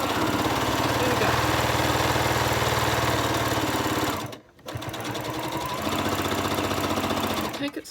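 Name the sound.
sewing machine stitching quilt binding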